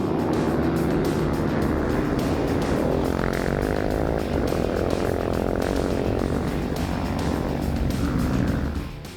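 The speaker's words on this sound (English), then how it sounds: "A mass start made spectacular viewing, bikes and quads revving up to attack the stage." Rally motorbikes and quads rev together at a mass start on a sandy desert stage, a dense continuous roar of many engines holding loud and steady for about nine seconds before easing slightly at the end.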